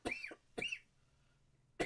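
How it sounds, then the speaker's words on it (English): Three sharp, close coughs, two in quick succession and a third after a short pause, in a quiet room. "And I have to cough now."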